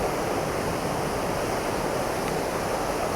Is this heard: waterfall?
yes